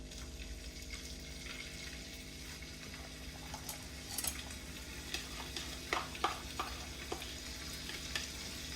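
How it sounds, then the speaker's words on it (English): Bacon sizzles and crackles steadily in a hot pan while cooking orecchiette with cauliflower, with scattered sharp pops rising over a constant frying hiss. "And that sizzle is what you're really looking for."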